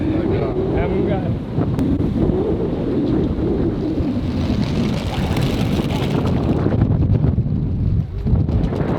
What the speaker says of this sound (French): Ça, c'est pour vous dire à quel point le vent, il est puissant.